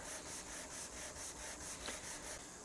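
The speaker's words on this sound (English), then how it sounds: "I just want to sand the top of this body until I've got a nice tight line" Steady back-and-forth rubbing of 320 grit sandpaper across the top of a guitar body, a soft, even rasp repeating in a regular rhythm, faint and close with no voices.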